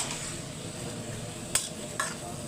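Bitter gourd stir-fried with green chili and onion sizzles in a steady, close hiss, with two sharp clinks of a utensil against the pan near the end.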